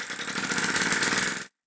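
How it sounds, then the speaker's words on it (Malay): A small 3D-printed piston engine driven by compressed air runs at speed, giving a fast, even, buzzing rattle with hissing air for about a second and a half before cutting off abruptly; close and loud, no voices. "enjin berfungsi dengan sangat baik walaupun"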